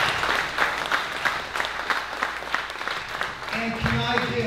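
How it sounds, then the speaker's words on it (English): Crowd applause at a Semper Fi Fund fitness charity weightlifting event, with clapping and cheers rising and falling while a speaker's amplified voice talks over it, plus a louder burst near the end. "Big round of applause."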